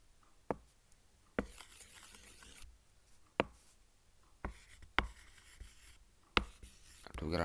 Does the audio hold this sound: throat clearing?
no